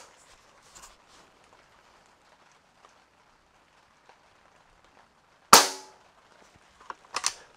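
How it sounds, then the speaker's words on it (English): A Gauntlet high-power air rifle fires one sharp, loud crack partway through, followed by a quieter mechanical clack near the end, against a mostly quiet background. "I'm gonna run some more shots through it here."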